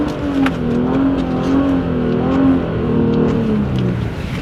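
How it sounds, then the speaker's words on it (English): An Infiniti G37 sedan drifting in snow, heard from inside: a loud, steady engine drone rises and falls in pitch as the throttle swells and eases, sustained throughout with faint scattered clicks and no talking. "let's do a little in-person drift, because I'm sure you guys want to see that"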